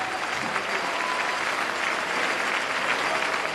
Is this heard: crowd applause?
yes